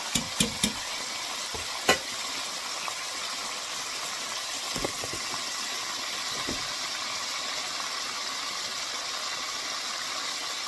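Chicken frying in grease that has gotten too hot, making a steady crackling sizzle with a few sharp clicks and knocks near the start.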